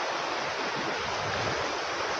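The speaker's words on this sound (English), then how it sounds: "Coming to our first waterfall of the day as we cross Blease Gill" Waterfall on Blease Gill in the Lake District, heard as a steady, broad rush of falling water close by, filling the scene with continuous white-noise roar and no voices.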